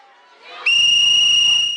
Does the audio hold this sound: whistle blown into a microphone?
yes